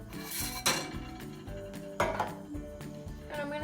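Baked red velvet cake pans come out of the oven with two distinct metallic clanks and some lighter knocks over steady background music.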